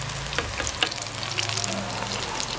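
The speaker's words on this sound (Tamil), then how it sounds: "இதே மாதிரி மிச்சத்தையும் பொறிச்செடுப்போம்." Brinjal pieces frying in hot oil, a steady close sizzle and crackle with small pops throughout, no voices.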